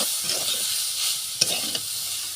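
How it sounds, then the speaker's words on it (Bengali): Leafy greens frying in a pan with salt, stirred steadily with a spatula, producing a constant close sizzle broken by a couple of sharp scraping knocks. "তো শাকটা কিন্তু ভাজা হয়ে গেল।"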